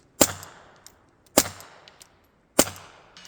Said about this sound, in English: I'm going to hit that big steel gong I have down there.